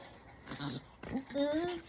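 A dog named Losa gives a few short, rising whimpers and whines nearby, brief high-pitched cries in quick succession with a person speaking over them.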